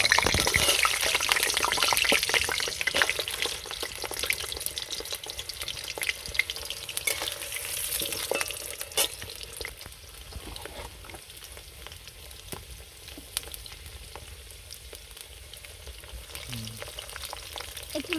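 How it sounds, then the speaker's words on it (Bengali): Potatoes frying in hot oil for a chicken curry, a loud crackling sizzle at first that settles into a quieter, steady bubbling hiss with occasional stirring, no talk. "তেলটা গরম হয়ে গেছে, এবার আলুগুলো একটু লাল লাল করে ভেজে নেব"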